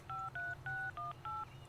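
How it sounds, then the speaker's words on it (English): Cell phone dialing tones in the video game Everlasting Summer: five distinct tone beeps in an even rhythm, clean and moderately quiet over a low background hum. "I took out my cell phone and dialed the first number on my contacts list"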